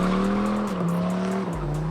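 A Dodge Ram Demon does a tire burnout, its engine droning loud and close with a sustained screech of spinning tires that shifts pitch as the revs drop near the end.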